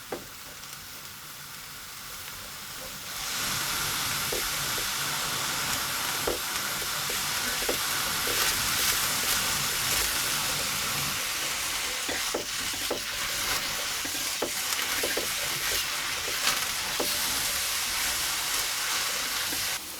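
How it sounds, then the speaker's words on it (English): Sliced aubergine fries in oil in a pan with a loud, steady sizzle that starts abruptly and carries on alone, broken by small crackles and occasional stirring clicks. "I'm just going to fry that for a few minutes, get some colour into that basically, and it will absorb that oil."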